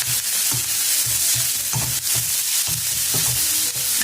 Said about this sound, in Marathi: भाजी मिक्स करून घ्यायची